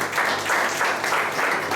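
A church congregation claps together in a steady round of applause, close and continuous, in short rhythmic bursts with no talking over it.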